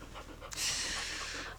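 A dog pants heavily right up close, a rapid, breathy rhythm that swells after a brief quieter moment and stays loud and near throughout.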